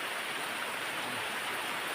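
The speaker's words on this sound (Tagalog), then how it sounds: "Umuulan pa." Steady rain falling outdoors, a continuous even hiss of drops with no break, fairly loud and close, with no voices.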